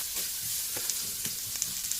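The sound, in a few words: onion and garlic frying in oil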